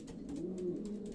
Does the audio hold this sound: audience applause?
no